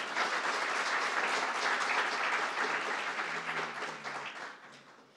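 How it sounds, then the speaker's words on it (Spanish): An auditorium audience at a national judiciary council forum applauds its panelists: dense, sustained clapping from many hands that holds steady, then thins and fades out toward the end. "quiero pedir un gran aplauso para estos panelistas que nos acompañan"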